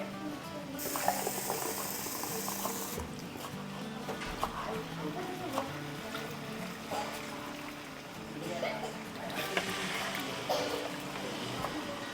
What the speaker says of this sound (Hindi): इसमें पानी डाल देता हूँ